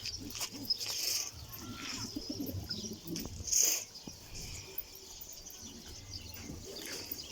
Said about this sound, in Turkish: Şöyle kuşlarımız da var.